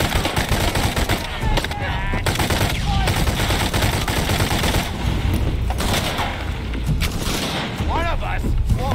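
Rapid video game gunfire, bursts of automatic shots and booms from a PC game on an Aero 15 RTX 2070 Max-Q laptop, loud and continuous throughout, with a voice speaking over the action.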